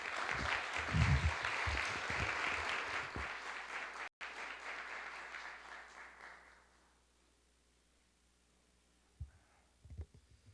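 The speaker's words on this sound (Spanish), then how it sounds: "lo recibimos con un fuerte aplauso" An audience at a book presentation breaks into warm applause to welcome a speaker, a dense burst of clapping that fades out over several seconds, leaving near silence with a couple of faint knocks.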